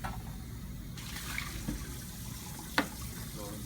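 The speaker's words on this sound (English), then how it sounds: "Rinse this part off. It can go into the sink." Water runs into a sink as a part is rinsed, a quiet, steady hiss and splash with a few faint knocks.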